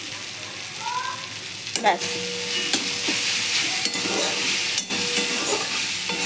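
Water spinach being stir-fried in a wok, a continuous close sizzle broken by several sharp scrapes and clacks of the spatula, with a brief word spoken over it.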